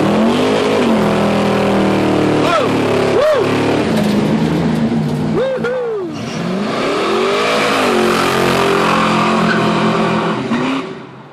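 A car fitted with Edelbrock E-Street EFI revving hard during a burnout, the engine roaring and swooping up and down in pitch close by, with squealing tyres and a brief lull in the middle before the engine climbs again.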